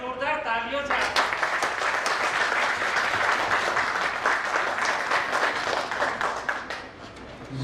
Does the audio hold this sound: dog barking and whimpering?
no